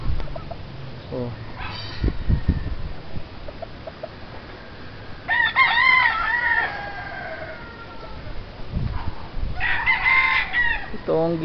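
Roosters crow twice among many chickens at a home crowded with poultry, well over a hundred birds, the long rising calls standing out over softer clucking and background chatter from people nearby.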